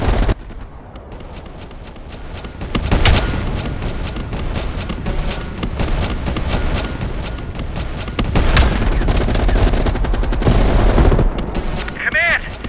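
Sniper rifle fire and battle sounds from the Call of Duty Cold War video game, with loud sharp gunshot cracks near 3 and 8.5 seconds over a dense, continuous backdrop of distant gunfire and combat noise.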